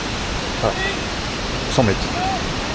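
A steady broadband roar from a waterfall about 100 metres high in Bali fills the background continuously, with people talking briefly over it.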